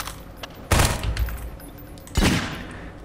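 Two loud, close shotgun blasts in Half-Life 2, each a sharp boom with a short ringing tail, spaced about a second and a half apart with no talking.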